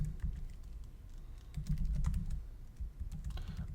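Typing a username on a computer keyboard, rapid close key clicks in an irregular stream with no talking.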